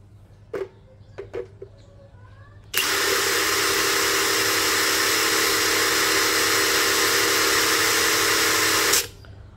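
Dongcheng DCPB689 cordless impact wrench running free at high speed, a steady loud whirring hiss held for about six seconds after a few brief clicks, then cutting off abruptly.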